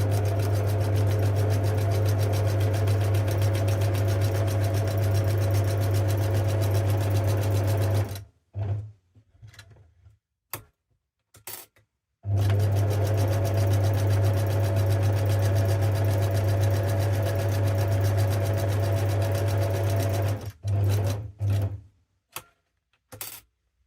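A sewing machine stitches around a fabric envelope in two long, steady, close runs of fast mechanical whirring, separated by a pause filled with a few short bursts and clicks, with another short burst near the end.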